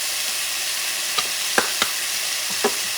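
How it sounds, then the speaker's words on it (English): Alligator stew seasoned with smoked paprika being stirred in a pot: a soft continuous bubbling hiss with a few sharp spoon clinks against the pot, close up and with no talk. "Going to mix things around."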